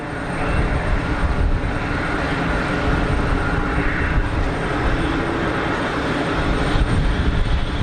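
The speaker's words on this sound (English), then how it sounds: "SAS 321 rolling." An SAS Airbus A321 jet roars steadily through its takeoff roll at Geneva Airport, a loud, broad, sustained engine rumble with a faint swell near the middle and no talk.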